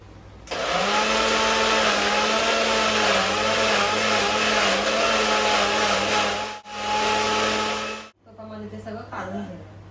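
A kitchen mixer grinder whirs loudly and steadily while grinding spinach into a fine paste for palak paneer. It cuts out briefly twice, then a rougher, lighter grinding follows.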